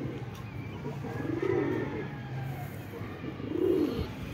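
Pigeons coo on a rooftop in two soft, rolling bursts around the middle and end, close and fairly quiet over a low background rumble.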